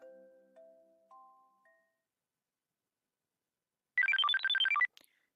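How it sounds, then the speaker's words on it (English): A cell phone ringtone plays from a desk in a visual novel scene, a short bright burst of rapid melodic chimes that stands out after a few soft tones. "Aoi Isuzu's cell phone rings from its position on her desk."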